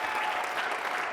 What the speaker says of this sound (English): big round of applause for Chris and Miriam for putting this together